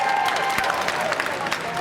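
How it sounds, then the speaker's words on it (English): Brief applause and light cheering from an audience at a 2023 Asian Pacific Islander Heritage Month celebration at Seattle Center, a dense, moderately loud patter of clapping with a few high voices. "Everybody give a round of applause to our wonderful volunteers."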